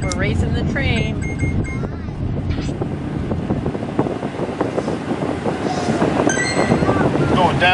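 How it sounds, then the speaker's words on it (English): A train in a video game rolls past with a continuous rumble and clatter, mixed with wind noise and occasional higher tones. "Like we're racing the train."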